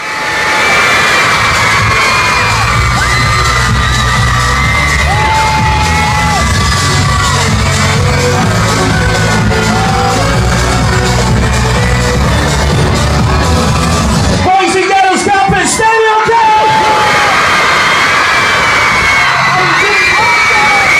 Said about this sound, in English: Then they eventually came on and the crowd was so loud